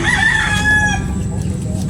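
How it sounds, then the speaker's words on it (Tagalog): A rooster crowing nearby at a rural fishing spot on a relaxed outing, one drawn-out crow rising and fading over a low rumbling background. "May maririnig ka pang tilaok ng manok."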